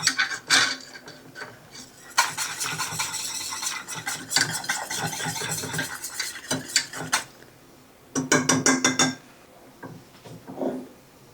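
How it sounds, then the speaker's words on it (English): Full-fat heavy cream whisked in a pot while making caramel sauce, a close, rapid metallic rattle of whisk against the pan that comes in several bursts with short pauses. "Whisk that a few minutes."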